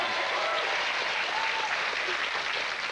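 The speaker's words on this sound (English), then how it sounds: "a big round of applause there" A burst of enthusiastic applause from a television studio audience, steady dense clapping filling the whole stretch without any pause.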